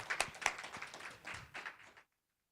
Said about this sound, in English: Please join our panel with a round of applause.